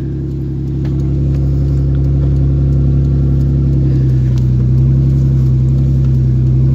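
An Isuzu engine from a rolled vehicle idling after a cold start: a loud, steady low rumble with a slight lift in pitch early on, then a constant drone.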